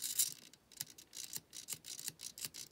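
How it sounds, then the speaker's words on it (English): Steering servo on an RC conversion of an old Chevy whirs in short, faint mechanical bursts, about a dozen quick buzzes in an uneven rhythm, close and alone. "And the steering, there's the servo."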